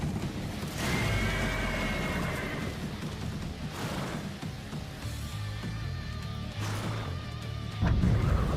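A horse in the video game Stellar Blade gives a loud, drawn-out whinny. Clopping hooves, thuds and crashing impacts follow across several seconds.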